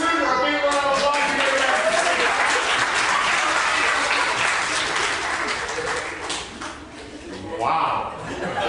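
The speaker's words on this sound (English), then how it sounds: "Let's give our suitor a big round of applause." Audience applause fills a library summer reading kickoff event, sustained clapping from a crowd with scattered laughter and voices mixed in, dipping briefly before swelling again near the end.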